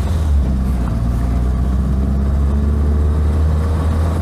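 A small Fiat Seicento car pulls away, its low engine drone steady and close throughout with a faint rising whine, no voices over it.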